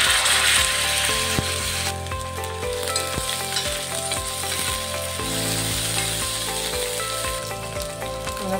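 Green chilies and ginger garlic paste fry in hot oil, a loud, close, continuous sizzle with repeated spoon strokes scraping the pan, and no voices.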